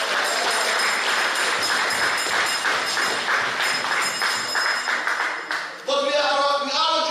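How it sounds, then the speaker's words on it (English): An audience at a community consultation applauds Aquila, dense continuous clapping filling the room, cutting off near the end as a voice begins speaking. "I want you to give a round of applause to Aquila for her efforts"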